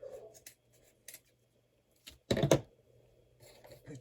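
Scissors snip through craft material, cutting it in half: a few sparse clicks, then one louder crisp cut, up close in a quiet room.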